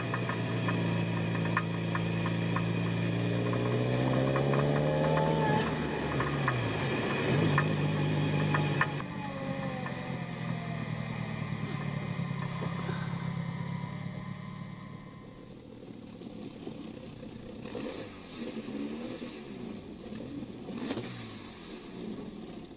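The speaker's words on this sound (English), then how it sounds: "I'm driving now." Car being driven, a steady engine drone with rising and falling revs as it accelerates, heard from inside the cabin and quieter in the final stretch, with no talk.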